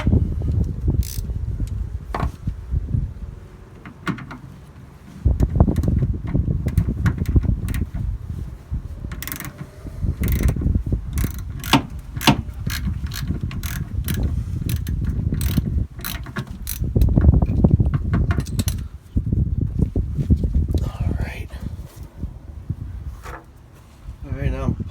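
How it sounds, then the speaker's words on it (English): A ratchet fitted with a 9/16 socket clicks in quick repeated bursts while working on an Onan RV 4kW gas generator, with pauses, clunks and handling noises between runs, close up. "get your 9/16"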